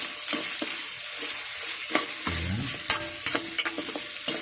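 Garlic and onion sizzle steadily in a hot pan while a spatula scrapes and knocks through them, with a few sharper clacks near the end; close and moderately loud, no voices.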